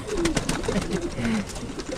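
Pigeons at a loft cooing softly and repeatedly, with several low throaty coos close by over faint fluttering and background rustle.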